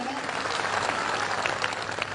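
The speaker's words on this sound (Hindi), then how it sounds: "ऐसे सांसद के लिए जोरदार तालियां बजा के स्वागत करें।" A crowd at the Bundeli festival in Basari, Rajnagar claps loudly to welcome the MP, with dense, sustained applause throughout the short stretch.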